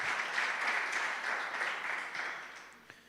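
Applause from a church congregation praising God: a broad wash of many hands clapping at once, steady and fairly loud, tapering slightly toward the end, with no talk on top.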